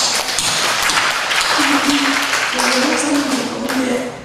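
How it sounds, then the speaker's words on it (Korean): A church congregation claps loudly in sustained applause during a worship service, with a voice speaking over the clapping. "김정수 목사님에서 큰 박수 주시죠."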